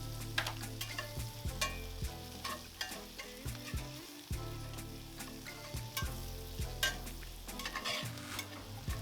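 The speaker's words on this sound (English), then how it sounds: "Garlic, you just want it to cook for about 30 seconds or 15 seconds, not very long." Garlic fries in a hot pan with a steady sizzle, while a utensil stirs and scrapes in frequent knocking strokes, loud and close.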